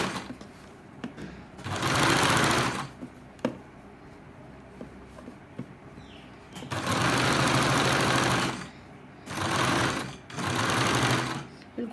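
A sewing machine stitches a side pocket onto a salwar in several loud bursts of rapid whirring, separated by quiet pauses with small handling clicks.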